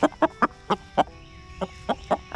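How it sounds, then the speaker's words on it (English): A big rooster clucks in a garden, giving a quick series of about nine short, close, evenly spaced clucks with a brief pause midway and no talk. "This is one of the roosters."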